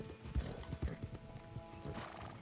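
Horse hooves in the Red Dead Redemption game clop in a fairly close, uneven rhythm, joined by a short whinny, with no talk over them.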